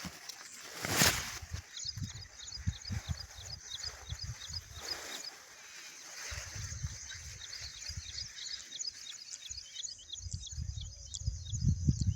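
Sparrows chirp in rapid, scattered bursts throughout, fairly close, with rustling and low thumps underneath in an open farm field.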